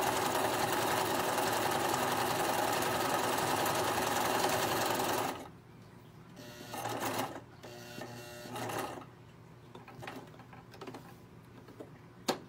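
Sewing machine stitching a drawstring gift bag: a loud continuous run for about five seconds, then quieter handling sounds and a few short stitching bursts.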